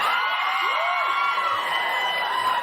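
A live TV comedy studio audience at Saturday Night Live whooping and cheering, with loud sustained crowd noise and rising 'woo' shouts heard up close across the whole stretch.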